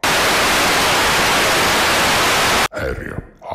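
Loud, steady static interference hisses continuously for over two seconds, then cuts off abruptly and leaves quieter, muffled noise behind.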